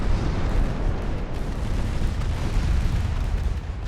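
Secondary guns on a warship fire in the naval game Ultimate Admiral Dreadnoughts. Rolling booms and blasts pile into a loud, continuous rumbling barrage that never lets up.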